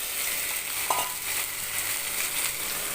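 Egg kothu fries in hot oil on a tawa, a steady, bright sizzle close by with a single light clink of utensil and faint stirring, no voices.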